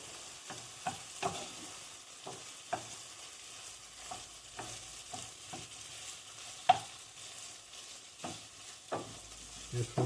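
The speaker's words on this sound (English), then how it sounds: "So I'm toasting the rice." Rice toasts in a hot pan, a low sizzle under repeated scraping stirs that come at irregular intervals, close and moderately quiet, with one sharper knock partway through.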